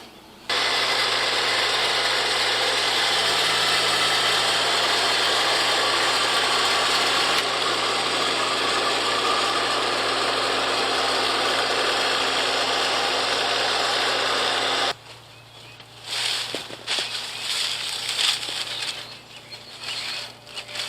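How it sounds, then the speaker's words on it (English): A tractor engine runs loud and steady while its bucket scoops dirt in a garden bed, then the sound drops to quieter, uneven working noise near the end. "So I'm going to use the tractor, scoop this out so that the dirt, I've got it in my tractor bucket"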